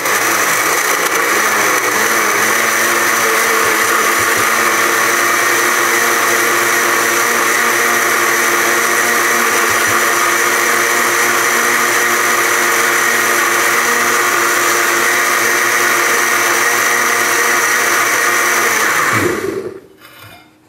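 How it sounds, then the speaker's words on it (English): A home blender that is not high-powered whirs steadily while blending a vegetable smoothie of blueberries, lettuce, broccoli and water, a loud continuous motor drone lasting about nineteen seconds before winding down and stopping. "This isn't a super high powered blender"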